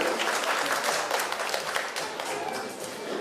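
An audience applauds at a couples' celebration event in Yakutsk, dense continuous clapping from a crowd, fairly distant and steady throughout.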